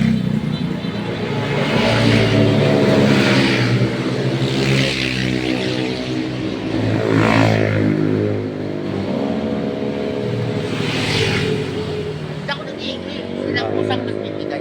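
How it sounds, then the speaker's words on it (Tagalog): Road traffic beside a street: cars and motorbikes pass close by in loud surging waves, engines revving and fading with a continuous rumble, while people talk over it. "napakaingay dito tayo sa gilid ng kasada"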